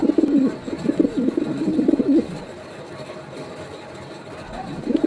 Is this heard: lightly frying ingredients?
no